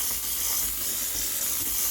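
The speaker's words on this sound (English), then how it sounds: "So let's say you start steaming" A Breville Barista Express BES860 espresso machine's steam wand gives a steady, loud, close hiss of steam, unbroken for the whole moment, with no talking over it.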